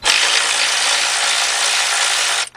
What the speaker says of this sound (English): I'm going to use my 14mm deep 3/8 drive for my cordless impact